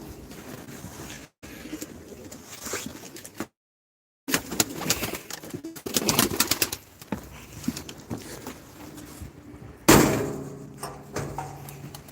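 Pigeons coo in low, murmuring calls amid rustling and fluttering, with a brief silent break partway through.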